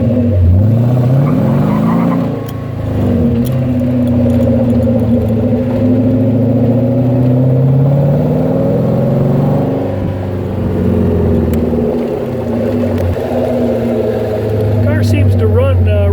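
A 1933 Ford Roadster Factory Five car engine revs up and down repeatedly, its pitch rising and falling, loud and close, with a person talking over it.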